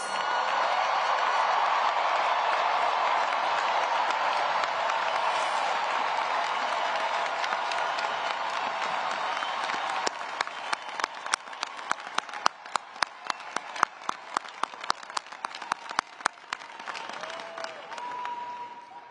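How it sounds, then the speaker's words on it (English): A large crowd at a university commencement ceremony applauds the graduating class, a dense wash of clapping that thins midway into scattered individual claps before fading out. "please stand so that we can give you the appropriate applause"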